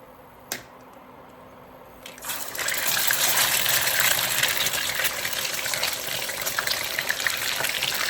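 Meat dropped into hot smoking fat in a non-stick pan, a sharp tap and then a loud sizzle that starts about two seconds in and keeps crackling steadily, close and dense.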